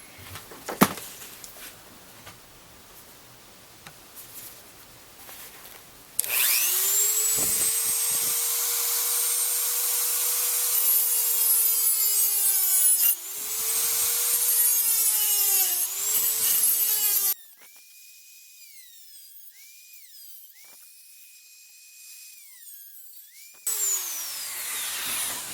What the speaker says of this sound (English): So what I opted to do was to Dremel this out.